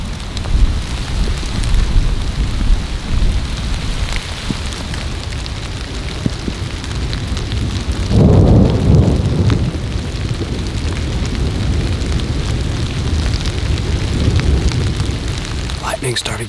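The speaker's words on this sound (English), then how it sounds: "Had a storm come through." A thunderstorm in Alabama woodland: steady rain patter and hiss throughout, with a low rumble of thunder swelling midway, heard close and fairly loud.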